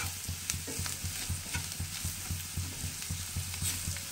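Spices cooking with onion and garlic in a pan, a soft sizzle beneath regular rhythmic stirring scrapes of a spoon, close and fairly quiet.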